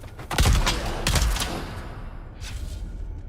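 Weapon fire from the survival game Dune: Awakening, a few punchy close shots in quick succession, followed by quieter rumbling and a faint later burst, with no talking.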